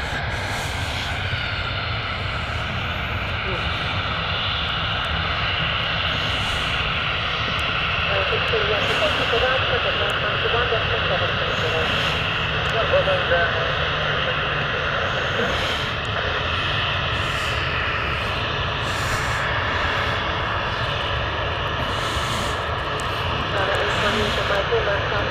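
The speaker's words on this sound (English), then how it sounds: "Lee's just picked up the Turkish Challenger, which took off a minute ago." Jet engine roar from a Turkish Challenger business jet departing Stansted Airport, a steady broadband rumble lasting throughout at moderate distance, with people chatting over it.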